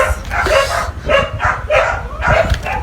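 A dog barks loudly and close by in a regular rhythm, about five barks that each have a yelping, whiny edge.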